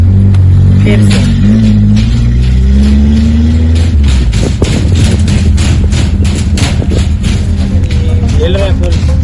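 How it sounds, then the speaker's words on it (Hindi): A car engine hums and revs while the vehicle jolts along a bumpy road near the line of control in Kashmir, with rattling and clatter from the rough ride, loud and close throughout. "हिल रहा है, फुल डांस कर रही है गाड़ी।"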